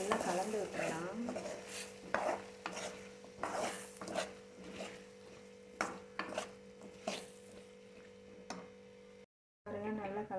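Cut raw mango is mixed into a pickle with a spoon in a vessel, making repeated soft scraping and clinking strokes at an irregular rhythm, up close and fairly quiet, broken by a brief moment of silence near the end.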